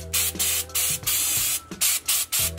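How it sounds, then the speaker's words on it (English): A can of rubber sealant sprays in several loud hissing bursts separated by short pauses, close to the listener, coating gaps and cracks in a reptile cage. "just spray it on, make sure you get all the little gaps and cracks."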